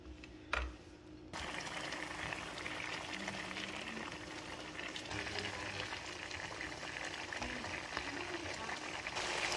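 A pan of sauce for smothered turkey legs bubbles and simmers steadily up close as it boils down, after a brief clatter at the start.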